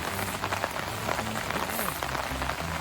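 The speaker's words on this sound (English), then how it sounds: "I think they were waiting for my visit to rain like this." Steady rain falls at a resort near Chennai, an even patter and hiss of drops on surfaces, moderately close, with faint low voices and sounds mixed underneath.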